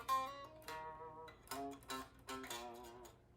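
Electric guitar playing the fourth part of a riff, a short phrase of sustained, ringing notes moving between pitches, played alone and fairly quiet.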